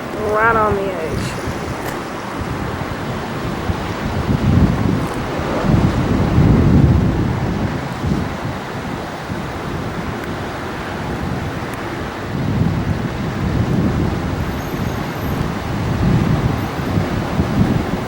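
Ocean waves and gusty wind at the Hawaiian shore roll in broad swells, with surf surging loudly twice and heavy wind buffeting the microphone throughout.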